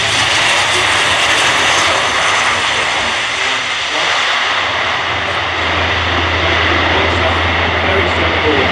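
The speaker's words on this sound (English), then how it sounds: "as the aircraft comes into land" Airbus A400M Atlas military transport aircraft coming in to land at an airshow, a loud, continuous turboprop roar with a steady low drone that holds throughout, heard close and alone.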